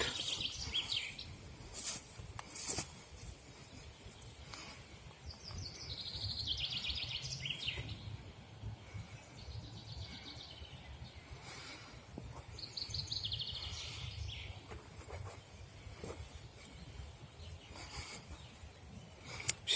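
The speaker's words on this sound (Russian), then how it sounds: "Птички поют." Small birds sing in a state forest, giving faint, scattered high chirps and trills over a soft, steady outdoor background hum.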